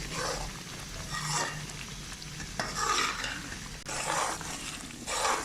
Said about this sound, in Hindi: इसको हम खुशबू आने तक भूनेंगे।